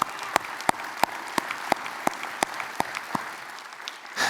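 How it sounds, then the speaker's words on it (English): Applause from consultants and advisors at a company's closing speech, heard as a thin, steady patter of claps with a few sharper individual claps standing out, fading out near the end. "Give yourselves a huge round of applause."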